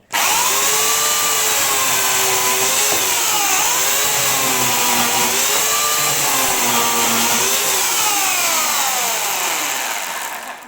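A Bosch Universal 35 electric saw whines continuously while cutting, its pitch dipping and recovering as the blade loads up, loud and close throughout before the motor winds down at the end.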